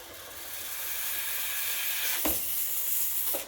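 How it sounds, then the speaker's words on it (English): A Breville Oracle espresso machine's steam wand hisses steadily and loudly for the whole stretch. Two brief bumps come near the middle and at the end. "So you can manually steam by raising it up"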